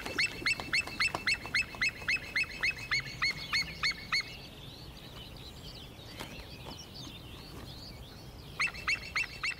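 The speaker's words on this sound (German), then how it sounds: "Es hört sich nach einem anderen Seeadler an." Repeated sharp, yelping calls of a white-tailed sea eagle ring out in a steady series over the first few seconds, pause, then resume near the end, outdoors at an odd site like a scrapyard or training ground.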